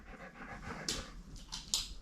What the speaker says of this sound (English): You hear my dog panting.